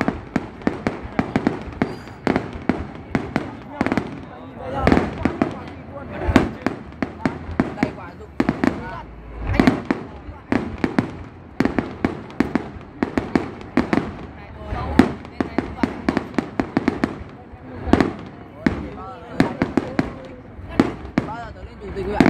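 Fireworks going off at a display in Thuận Thành, Bắc Ninh, a dense, continuous barrage of loud cracks and bangs that keeps going without a break, with people talking under the blasts.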